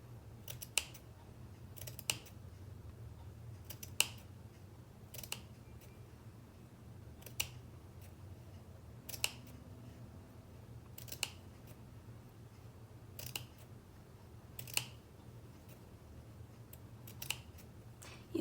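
Sharp scissors snip slits across a piece of felt fabric for a handmade felt flower, each short crisp cut landing at a loose pace of roughly one every one to two seconds, close and quiet with no voices.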